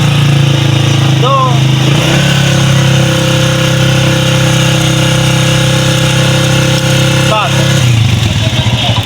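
A Honda 125 Special Edition motorcycle engine idles steadily and loud, close by, with gentle rises as the accelerator is blipped a little, during self-start and battery charging repair work.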